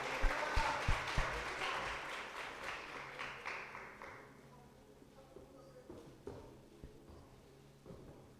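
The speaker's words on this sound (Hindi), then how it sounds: "जोरदार तालियों के साथ।" Church congregation at a Children's Sunday service breaks into applause, a burst of claps that swells briefly and then thins into scattered taps and shuffling, fairly quiet and distant.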